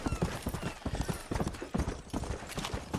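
Steady clip-clop of galloping horse hooves in the video game Red Dead Redemption, loud and continuous, with a brief whinny mixed in and faint background noise.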